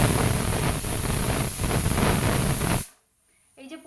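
Pressure cooker on a gas stove letting off a loud, steady hiss of steam for about three seconds, then cutting off abruptly into near silence with a faint clatter.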